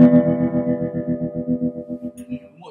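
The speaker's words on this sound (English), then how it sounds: "Tremolo is with that, and it comes on old school amplifiers" A guitar through the tremolo circuit of an old-school amplifier, a sustained chord pulsing in fast, steady volume chops about six times a second, close and loud with no voices.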